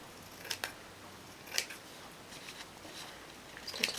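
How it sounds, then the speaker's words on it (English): Scissors trimming paper for an envelope notebook: a few short, crisp snips close by, spaced irregularly over a quiet background. "Now I am going to trim some of this."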